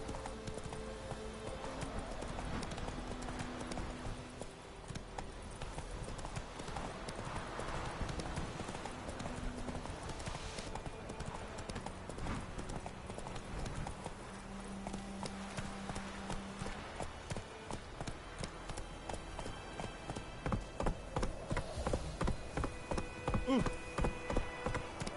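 Roach, the horse in the video game The Witcher 3, gallops with a rapid, rhythmic clip-clop of hooves that quickens and grows louder toward the end, with voices speaking over it.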